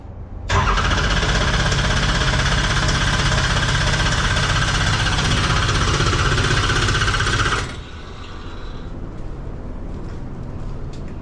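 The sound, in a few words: race car engine being cranked and starting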